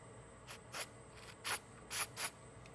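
Silicone spray from an aerosol can during a Nissan 370Z supercharger install, five quiet, short hissing bursts in quick succession, close by and alone.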